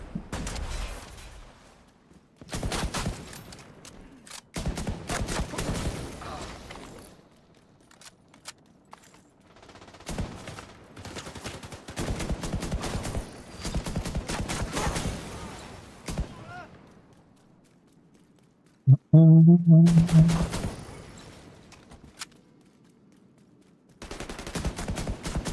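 Bursts of automatic gunfire in The Division 2, several rapid volleys of sharp shots separated by quiet gaps, fairly close and loud, with a short voice-like tonal sound near the end.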